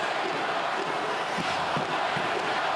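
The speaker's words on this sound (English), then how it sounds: "Crowd loving it." Hockey arena crowd roaring during a physical NHL game between the Edmonton Oilers and Calgary Flames, a steady broad wash of massed voices and cheering with no clear peaks, heard alone at moderate level.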